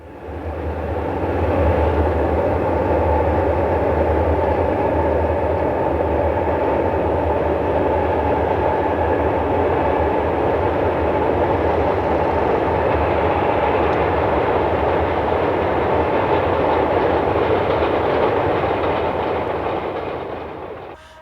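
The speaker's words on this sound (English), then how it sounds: "A gravel train is on its final run of the day near Palmer." A heavy Alaska Railroad gravel train rumbles past near Palmer, Alaska, with a continuous roar and faint rhythmic clatter of wheels, loud and close for the whole stretch.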